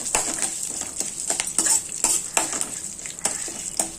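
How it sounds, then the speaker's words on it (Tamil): Curry leaves and chillies roasted in a pan, with bright continuous sizzling and crackling punctuated by repeated clinks and scrapes of a spatula stirring against the metal, close and fairly loud. "இப்போ நம்ம கருவேப்பிலை கொஞ்சம் போட்டுக்கலாம். இந்த கிள்ளி வச்சிருக்கிற மிளகாவையும் போட்டுடலாம். போட்டு நல்லா இப்படி வறுத்துக்கோங்க."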